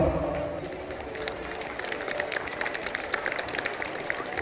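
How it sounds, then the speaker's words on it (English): An audience at a school event applauds to welcome the chief guest, a dense, steady wash of clapping heard from within the hall, moderately loud and continuous throughout. "Please join me in giving her a huge round of applause"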